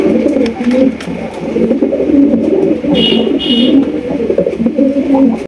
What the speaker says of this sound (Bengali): এখানে রয়েছে মাশাআল্লাহ অনেক সুন্দর আকর্ষণীয় এক জোড়া গররা কবুতর